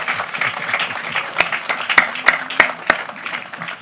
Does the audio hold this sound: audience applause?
yes